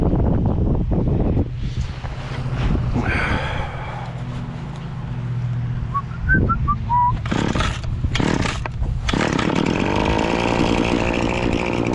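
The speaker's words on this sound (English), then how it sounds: "Get that feller going, and we're ready to start the weed whacker." A weed whacker is pulled to life outdoors on a rainy day, with tugs and sputters before its small engine catches and runs at a high, buzzing whine amid wind noise.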